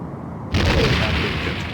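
A Romulan warbird fires on the ship in Star Trek: A Final Unity, a sudden heavy boom after a quiet hum, followed by a sustained rumbling roar that slowly fades.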